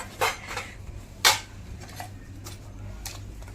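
Dishes being washed, with a few sharp clinks and clatters of metal utensils and plates at irregular moments over a low running-water hiss, close by and without speech.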